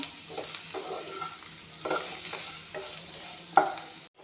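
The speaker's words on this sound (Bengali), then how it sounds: "এইখিনি অলপমান ভাজি ল'ম" Jackfruit seeds frying in a pan, a soft, fairly quiet sizzle with intermittent scraping stirs, one sharper knock near the end before the sound cuts off.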